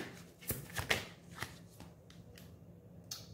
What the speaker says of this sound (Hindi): मैं पहले कार्ड्स निकालूंगी उसके बाद मैं बताऊंगी